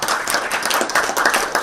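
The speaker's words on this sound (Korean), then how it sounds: "큰 박수 부탁드리겠습니다" An audience applauds to welcome a professor before his lecture on embedded IoT at a software seminar, with close, uneven clapping from a modest crowd.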